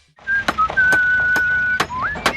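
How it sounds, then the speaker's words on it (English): A builder whistles a sustained tune close by as he works, a steady high tone with a few pitch slides, punctuated by sharp knocks and clicks in the background. "Builder Ali spent his 40-year career whistling as he worked."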